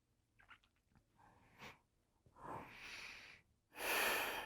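Breathing in happy baby yoga pose: soft nasal sniffs and shuffles lead into a long audible exhale and then a louder, breathy second breath, close and quiet.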